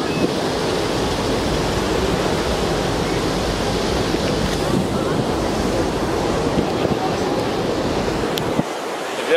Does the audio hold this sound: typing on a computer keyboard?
no